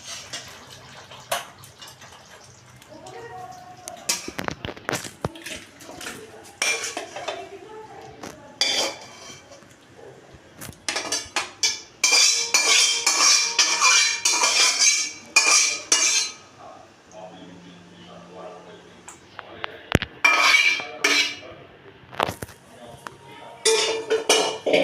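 Andhra-style dry green chicken is served onto a plate, with scattered cutlery and dish clinks, scraping and some running water among kitchen noise, with intermittent talking.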